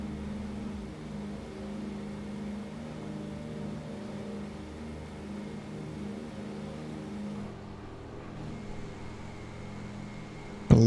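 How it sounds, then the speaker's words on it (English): Douglas DC-3 twin piston engines droning in flight in a flight simulator game, a steady loud hum holding throughout before a brief sharp noise at the very end. "I love the sound of a DC-3"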